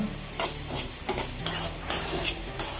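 Grated coconut roasts in coconut oil while a spoon stirs it, making rhythmic scraping strokes against the pan over a soft sizzle, close up with no voices.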